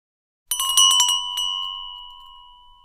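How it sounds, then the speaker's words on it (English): A small bell above a pizza shop door rings out brightly in a quick jangle of strikes, then a clear metallic tone lingers and slowly fades, close and alone. "Sam opens the door of the pizza shop, and a small bell rings above him."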